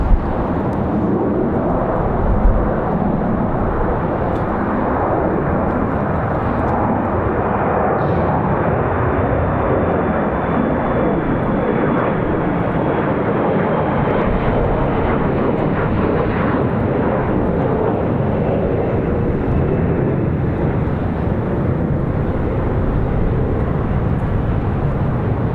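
A Republic Airways jet airliner departs Raleigh-Durham International, bound for Washington Dulles, its engine roar loud and sustained, filling the air steadily for the whole stretch with no voices over it.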